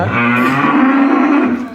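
Cattle on a farm where several cows are kept tied give a loud, sustained moo close by, one long bellowing call lasting nearly two seconds with no talk over it.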